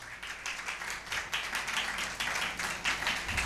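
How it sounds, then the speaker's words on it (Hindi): A church congregation applauding for a pastor during a live sermon: moderate, steady clapping from a room full of people, fairly faint and continuous with no speech. "आप पास्टर बिन्यामीन के लिए जोरदार तालियां बजाएं।"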